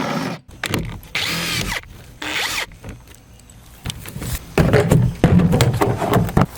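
A power drill backs out the bolts on an old mailbox in several short, whirring bursts, each rising and stopping, with gaps of handling noise between them.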